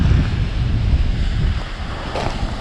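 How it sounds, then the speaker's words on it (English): Ocean waves roll in beyond a rocky cove on the north coast of Favignana, Sicily, with steady gusting wind over a continuous low surf rumble and a slightly brighter wash near the end. "So you can see like this cove it's pretty calm behind the rocks, but then out there the waves are coming in."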